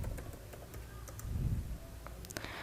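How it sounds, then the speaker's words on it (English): Quiet, close keystrokes tap irregularly on a computer keyboard as a command is entered, soft clicks spaced unevenly over a faint background. "Before this command I will type Python."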